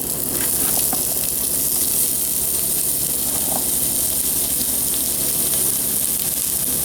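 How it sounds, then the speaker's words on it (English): Garlic and onions brown in a sauté pan for a beef stew, giving off a steady, even sizzling hiss with no breaks and no one speaking. "I'm going to be browning my garlic"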